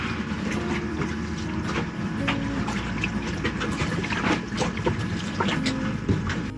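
Used engine oil pouring into a boat's engine aboard a sailboat, a steady liquid gurgle over continuous low background rumble, fairly close and unbroken for several seconds.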